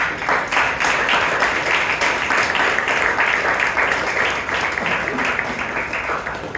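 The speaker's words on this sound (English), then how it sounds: "Can we have a big round of applause for him?" Loud, dense applause from the audience at a Toastmasters club meeting in Bangalore, honouring a vice president, sustained evenly for several seconds with a faint voice mixed in.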